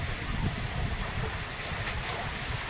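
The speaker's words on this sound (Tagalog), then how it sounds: "Ibig sabihin malakas ang hangin talaga." Steady, strong wind ahead of Typhoon Uwan roars across the microphone over rice fields, a constant broadband rush with gusty buffeting and no voices.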